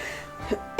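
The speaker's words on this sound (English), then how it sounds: "Excuse me for coughing." A single short cough bursts out near the end, following a quiet stretch with faint background hum.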